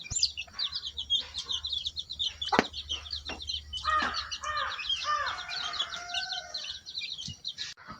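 A brooding hen with her chicks kept in a plastic box of sawdust: rapid high chick peeps fill the scene, with occasional low hen clucks and scattered clicks nearby.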